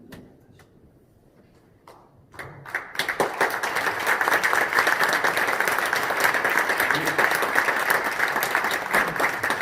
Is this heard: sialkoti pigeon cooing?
no